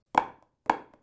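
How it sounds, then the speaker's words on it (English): Two crisp taps on a drum practice pad, each a quick flam of a grace note and accented stroke, a short pause between them. "a flam tap is like doubles where you accent the first note and turn that accent into a flam"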